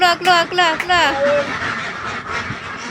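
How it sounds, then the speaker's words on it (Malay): A duck quacks several times in quick bursts at close range, followed by softer rustling and a few fainter calls. "Alah comelnya itik ni."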